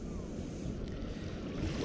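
Choppy sea waves and a steady wind roar without pause at a river mouth on a day with an easterly wind, the wash and rumble close and constant, with a faint hint of a voice underneath.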